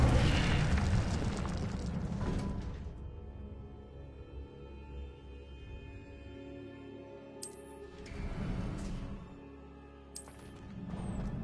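An Incendio fire spell cast in the Hogwarts video game, a loud whooshing burst of flame that fades into a low roar, followed by further softer spell bursts and shimmering tones.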